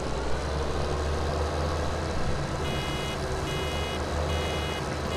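A vehicle's reversing alarm in Farming Simulator 17 sends out steady, evenly spaced beeps over a continuous engine drone, starting partway through and repeating regularly to the end.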